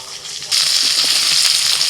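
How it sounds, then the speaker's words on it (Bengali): Cucumber pieces dropped into hot oil tempered with nigella seeds and dried chili in a pan, a sudden loud hiss that becomes steady close sizzling after a brief quieter moment. "ফোড়নটা হতে শসা দিয়ে দিলাম।"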